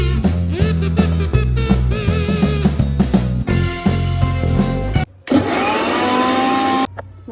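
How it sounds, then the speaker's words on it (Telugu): A mixer grinder whirs loudly as it grinds aloe vera, its motor pitch shifting between bursts, with a brief pause and then a higher whine near the end. "మిక్సీ పట్టేసుకున్నాం."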